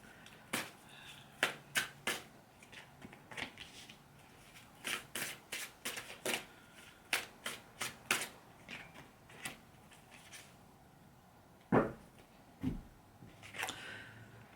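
Tarot deck being shuffled by hand, a run of crisp riffling bursts and card slaps with short pauses between, close and fairly quiet in an otherwise still room.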